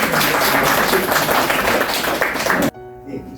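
Applause at a company workshop, a brief burst of clapping from a group that cuts off abruptly, followed by a short spoken moment.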